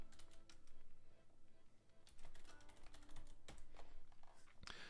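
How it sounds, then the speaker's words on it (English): Rapid typing on a computer keyboard during a software hacking session, a steady close clatter of keystrokes with no one talking. "I can't type and talk at the same time."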